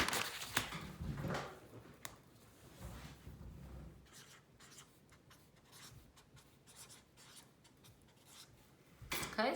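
Pencil or pen scratching across paper while a math equation is worked out, a steady close scribble with a denser burst of strokes early on, then lighter intermittent marks and a brief louder rustle at the end.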